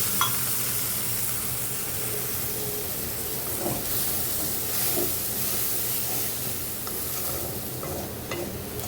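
Milk poured into a pan of fried onions with ginger-garlic paste, giving a steady hiss and sizzle throughout with a few brief splashy bursts, close and fairly loud, no talking.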